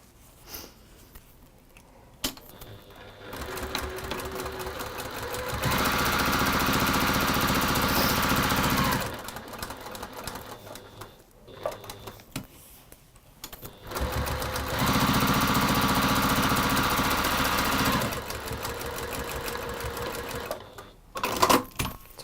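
A sewing machine stitches textile layers together in two sustained runs of a few seconds each, a close, steady mechanical whirr separated by quieter pauses with small handling clicks and fabric movement.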